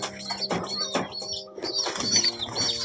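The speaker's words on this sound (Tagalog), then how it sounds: "So ayan mga kalapatids, mapagaspas na." Pigeons in a loft flap their wings in several quick bursts close by, with soft cooing and light chirps between the flutters and a faint background hum.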